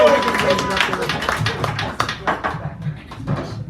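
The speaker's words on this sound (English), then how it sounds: "Give her a round of applause of appreciation" An audience at a poetry hour in a San Francisco cafe claps for a performer, a scattered patter of hands under a nearby voice that keeps talking over it.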